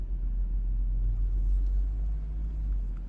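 A Porsche Boxster GTS with manual gearbox idles and creeps at low speed while turning around, a soft, steady low engine rumble close by with no voices.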